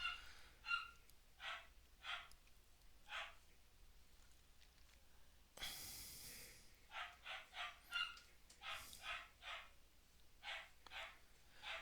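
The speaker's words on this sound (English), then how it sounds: "the dog barking in the background" A dog barks again and again in the background, in uneven bursts of single and doubled barks across the whole stretch, fairly distant and without speech, with a brief loud rustle partway through.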